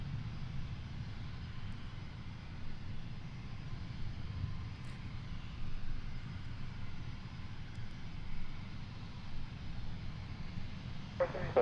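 A Gulfstream G550 business jet on the runway at Boeing Field, its engines a steady, fairly distant low rumble that holds without a clear build-up, with faint voices underneath.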